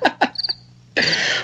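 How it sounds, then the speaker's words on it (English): Crickets chirp indoors in short, shrill trills followed by a denser, continuous chirping stretch, fairly near and moderately loud, with no talking. "They gonna be hearing all them crickets in the background."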